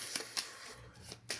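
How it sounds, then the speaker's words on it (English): Lenormand cards being shuffled by hand for a Grand Tableau reading: four crisp riffling bursts spaced irregularly over a quiet room, close and fairly soft, with no talking. "So I shuffle the card, and let's do a reading"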